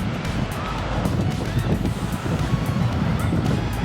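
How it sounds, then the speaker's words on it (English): Small Mediterranean waves wash onto the beach in Tel Aviv, a continuous soft surf rush mixed with gusty wind buffeting the microphone. "and there's the Mediterranean right there. They got waves."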